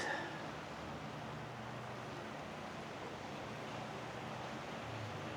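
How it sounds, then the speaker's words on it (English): A faint, steady wash of surf rolls onto a beach at Hua Hin, Thailand, with a constant low roar and a hint of wind, distant and unbroken, with no voices. "enjoy being by the beach and listen to the waves"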